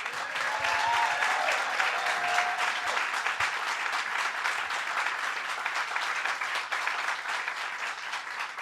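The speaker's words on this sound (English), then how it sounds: "give Christine Quinn, who is really a pioneer and a champion, a big round of applause" Steady crowd applause at an outdoor NYC Pride rally, a broad wash of many hands clapping at even loudness throughout, with faint cheers mixed in.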